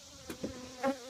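Honey bees buzz at a queenless hive set above a double nuc, a faint drone with a few louder individual buzzes passing close, brief and without talk.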